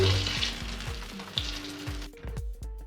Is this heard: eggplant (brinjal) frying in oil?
yes